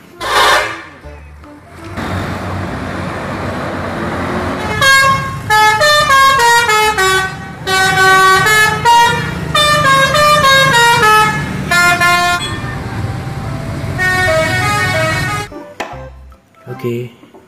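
A Budiman bus in a video game sounds a loud musical horn: a rapid, melodic run of short multi-tone honks that repeats for about ten seconds, then cuts off abruptly.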